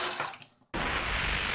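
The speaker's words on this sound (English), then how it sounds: "Boiling water in a toilet, another water-related thing." Water churning in a toilet in the game Observer, a rushing wash that fades almost to silence, then cuts back in abruptly as a loud steady rush, heard alone.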